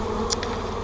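Honey bees buzz around the outside of a hive box, a steady low drone with a couple of brief closer buzzes as individual bees pass near.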